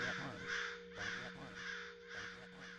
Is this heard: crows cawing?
yes